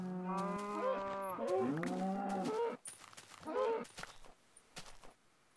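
Minecraft cows moo close by, several long drawn-out lowing calls in the first half followed by shorter moos, with sharp hit and footstep clicks between them.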